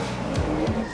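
Tayo's car passes in front of a cafe in a film scene, a loud, close engine roar with tire noise that swells twice in quick succession over a steady rumble, no voices.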